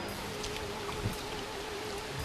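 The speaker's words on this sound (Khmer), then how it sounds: "នៅទីនេះបើសិនជាមានភ្លៀងធ្លាក់កាន់តែខ្លាំងទេសភាពកាន់តែស្រស់ស្អាត" Heavy rain falls in Pailin, Cambodia, as a constant, even hiss of drops on surfaces, fairly soft and unbroken, with no voices.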